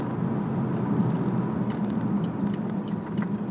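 A 1998 Chevrolet Corvette with 24,805 miles cruises on a test drive, its engine a steady low drone with road and wind noise filling the cabin, rising slightly as it shifts.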